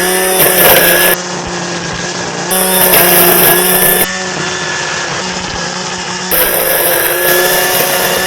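A Wild Badger 40V cordless weed wacker with brush cutter, edger, pole saw and hedge trimmer attachments runs in loud, high-pitched bursts. It revs up three times with steady drops to a lower idle whine in between, close to the microphone.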